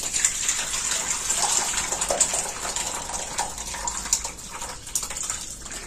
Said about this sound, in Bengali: এবার আমি এটা কিন্তু ছানাটা একটা সাদা কাপড়ে দিয়ে আমি এটা ছেঁকে নেব। এবার আমি এটা ঢেলে দিচ্ছি।